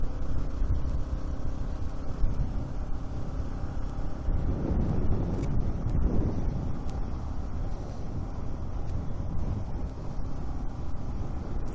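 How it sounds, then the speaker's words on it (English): Steady wind buffets a microphone on a cold, exposed trail at about 10,580 feet on Utah's Skyline Drive, a continuous low roar with mild swells and no voices. "It's cold and windy."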